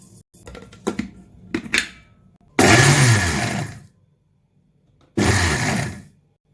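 A kitchen mixer grinder grinding oats, running in two loud bursts of about a second each with a quiet gap between them, after a few light knocks and clatters.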